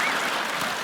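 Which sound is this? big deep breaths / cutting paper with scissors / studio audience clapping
studio audience clapping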